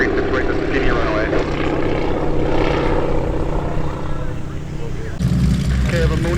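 A warbird airplane comes in to land on runway 36 right at Oshkosh AirVenture, its propeller engine droning loudly and steadily throughout, with tower radio talk running over it and a sharper engine note near the end.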